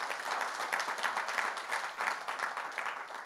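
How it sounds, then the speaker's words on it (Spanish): Church congregation applauding together during a Spanish-language sermon, a steady fairly soft wash of many hands clapping with no one speaking over it. "Dele un aplauso al Señor."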